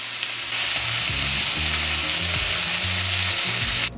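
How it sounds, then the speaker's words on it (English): Sauteed vegetables sizzle steadily and loudly in a hot pan beside tuna steak, with a constant bright frying hiss, low clunks and scrapes as they are stirred, and the sizzle cuts off abruptly near the end. "We'll cook for one extra minute and we'll stir."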